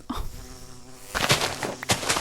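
Bees buzz in a Minecraft woodland, a thin insect drone that swells into louder overlapping buzzing near the end, with no voices over it.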